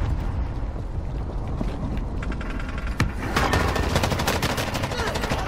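Automatic gunfire in the Warzone battle royale game, rapid bursts of shots growing denser and louder in the second half over a constant rumbling game background.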